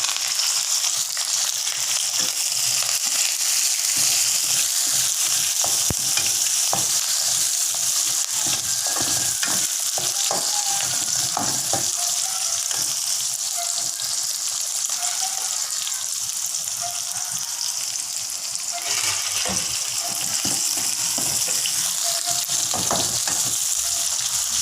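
Onion, curry leaves, green chili and garlic fry in a pan for stir-fried pumpkin, making a loud, unbroken sizzle for about twenty-five seconds, punctuated by repeated stirring and scraping.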